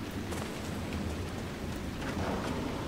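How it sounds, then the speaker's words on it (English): Steady rain in a moody zone of the video game Dragon Age: Inquisition, a continuous even hiss of falling water with faint drop patter throughout. "It's nice and moody and rainy."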